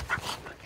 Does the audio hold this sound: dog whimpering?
yes